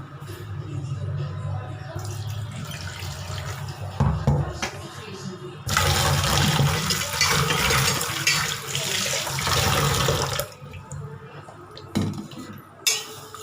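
Horse gram washed by hand in water: sloshing and swirling with bursts of splashing and the rattle of grains against a metal vessel, loud and close.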